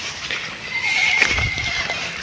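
A horse lets out a single whinny in a rural spot, a rising, wavering cry that is fairly close and stands out over quiet background noise.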